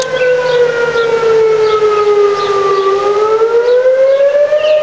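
A civil defense siren sounding a tornado warning, loud and close, its wailing tone dipping and then climbing again over several seconds with no voices.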